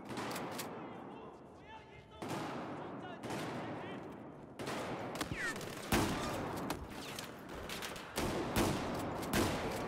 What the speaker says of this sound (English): Why are you shooting, my friend?